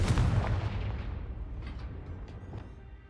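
A booming Confringo spell explosion in the video game Hogwarts Legacy, a loud deep blast at the start that rumbles and decays over a few seconds, with a few fainter pops trailing after, no talking.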